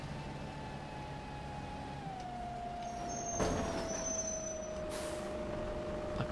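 A bus engine in the OMSI bus simulator game hums with a steady whine, then a sharp hiss of air brakes releases, followed by a second softer burst of air.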